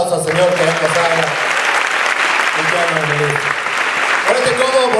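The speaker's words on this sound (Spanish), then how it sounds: "Dale un aplauso al Señor" At a national youth leaders' summit, a congregation-style crowd bursts into loud, sustained clapping, with amplified voices and tonal music or singing carrying over the applause.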